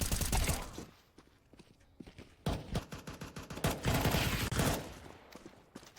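Rapid gunfire fills a Counter-Strike style competitive shooter match between SAW and ENTROPIQ, with dense overlapping bursts and single shots running almost without pause and loud throughout, plus faint footstep-like clatter.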